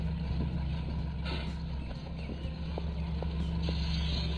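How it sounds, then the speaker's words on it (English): In the video game Plane Mechanic Simulator, a truck engine idles with a low, steady rumbling drone, continuous and moderately quiet, with faint intermittent clicks and ambient hiss over it. "Oh, it's the truck, I think."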